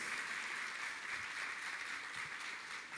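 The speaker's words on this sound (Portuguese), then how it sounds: "eu quero que vocês aplaudam com muito carinho" An audience at the installation ceremony of a letters academy in Cianorte applauds two honoured teachers, a steady, even wash of many hands clapping that stays fairly faint and distant throughout.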